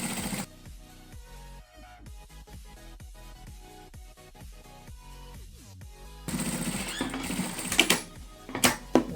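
Sewing machine stitching the side seams of a fabric casserole carrier, a rapid rhythmic mechanical chatter that runs in bursts and grows louder and busier in the last few seconds.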